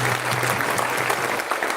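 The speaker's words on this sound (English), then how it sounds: "Give yourself a round of applause." Audience applause at an orientation session, a steady dense wash of clapping filling the short stretch at even loudness, with a faint murmur of voices underneath.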